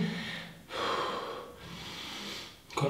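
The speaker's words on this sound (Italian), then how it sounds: "adesso recuperiamo, respiriamo, bei respiri profondi" Deep breaths drawn through the nose during a recovery pause in a cardio workout, two or three long, slow inhale-exhale cycles, close and breathy, with a sharp sniff at the very end.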